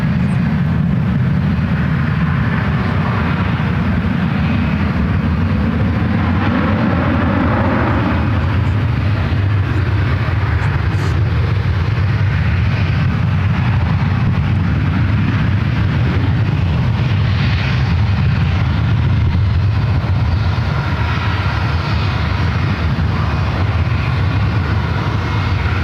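A Frontier airliner taxis at San Francisco airport, its jet engines giving a loud, continuous low rumble and roar that swells and shifts slowly, steady throughout with no talking.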